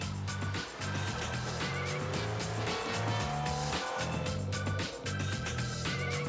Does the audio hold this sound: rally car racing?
yes